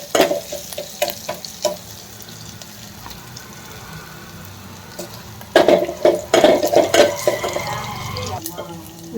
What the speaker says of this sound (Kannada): ಬೆಳ್ಳುಳ್ಳಿ ಸ್ವಲ್ಪ ಫ್ರೈ ಆಗಲಿ